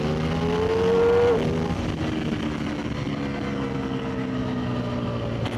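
A Ducati XDiavel V4 motorcycle engine revs up in a rising whine, then drops off and keeps running at a steady, moderately loud note, recorded close on the bike.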